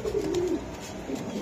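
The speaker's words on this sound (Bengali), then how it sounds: "আচ্ছা দর্শক এটা হলো কাগজি কবুতর তাই না ভাই?" Pigeons coo softly at a pigeon farm, one low rolling call up close followed by a quieter brief coo against a faint background hum.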